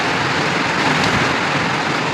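Steady rain falls during a downpour in Goa, a dense even hiss with no distinct drops or pauses, loud and close throughout.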